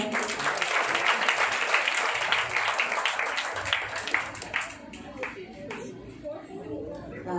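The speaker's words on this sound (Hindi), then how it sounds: "चलो मेगा के लिए ताली बजाए" A small family gathering claps for Mega, a fairly dense round of hands that is strongest at first and thins and fades over several seconds, with some chatter mixed in.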